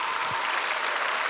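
Steady, dense audience applause filling the room at a church prayer rally for peace and reunification at the War Memorial in Yongsan, continuous and even throughout.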